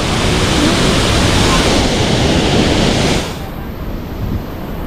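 A strong river current rushes loud and close for about three seconds, then drops to a softer, steady wash of flowing water.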